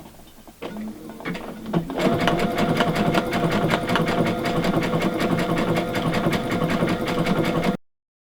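A Baby Lock Aria sewing machine stitches faux lace over bridging plates: a few clicks, then a fast, even mechanical whir of stitching runs loud and close for several seconds before stopping abruptly.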